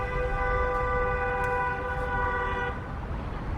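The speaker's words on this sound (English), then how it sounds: "it sounds like New York with all the honking." Vehicle horns blaring over a steady traffic rumble at night in Los Angeles, one long sustained honk with shorter toots layered in, fairly loud.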